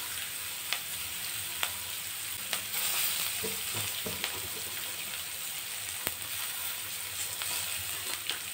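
Sliced onions with turmeric and dried red chillies fry in hot oil, a steady close sizzle with a few sharp clicks of stirring and scraping, and no voices.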